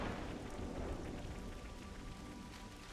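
A rainstorm in the video game Xenoblade Chronicles 3 hisses with steady dense rainfall and a faint low rumble, soft and continuous with no voices.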